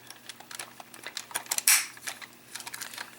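Plastic Kamitsuki Gattai Kyoryuzin toy robot legs being folded down, a quick run of small close clicks and taps with one sharper snap near the middle, no voices.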